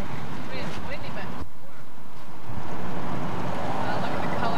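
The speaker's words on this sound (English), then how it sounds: "It's windy" Steady wind buffets the microphone throughout at Capitol Reef and Goblin Valley, a continuous rushing roar with a brief lull partway through.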